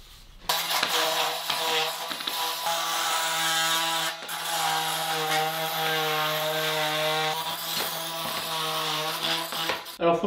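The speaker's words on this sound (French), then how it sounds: "je vais utiliser un multifonction comme ça avec une lame. Et en fait ça va me permettre de pouvoir venir gratter et dégager les joints des briques" A multi-tool blade scraping out mortar joints between bricks, giving a loud, steady buzzing grind close by with brief pauses.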